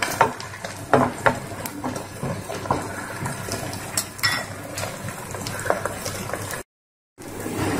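An egg omelette frying in a pan at a family restaurant, a continuous sizzle broken by sharp clinks and scrapes of a utensil against the pan, with a brief silent gap near the end.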